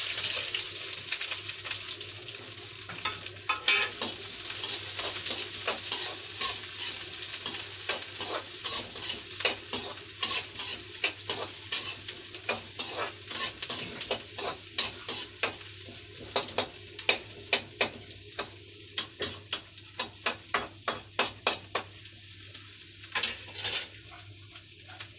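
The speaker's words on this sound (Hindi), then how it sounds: "तेल गरम हो गया है, इसमें डाल देते हैं प्याज।" Onions sizzling in hot oil in a home kitchen pan for an okra dish, a loud steady frying hiss that turns into a run of sharp rhythmic stirring scrapes and clinks, with no talk.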